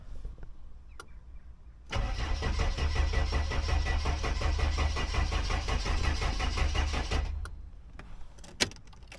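A car sitting in an impound lot cranks for about five seconds with a rapid, rhythmic starter whir but never catches, bracketed by faint key clicks and quiet surroundings.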